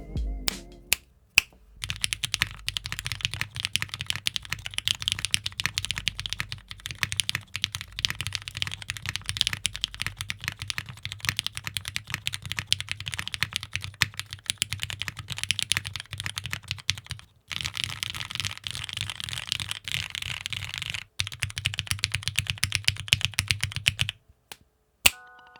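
Fast, continuous typing on a keyboard with Cherry MX Clear Top Nixie switches, spring-swapped to 63.5 g springs, lubed with Krytox 205G0 and filmed, gives dense, close clacks with two brief pauses and no talking.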